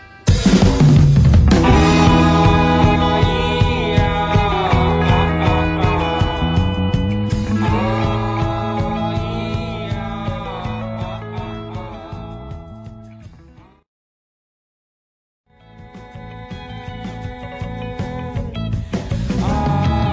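A song playing on radio, full band music with steady harmonic instrumentation, dropping briefly to near silence before resuming.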